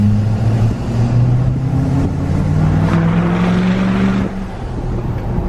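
A modified 2020 GMC Sierra Denali pickup with a Duramax diesel engine revs up, its deep droning roar rising and falling in pitch before settling back to a lower rumble, loud and close throughout.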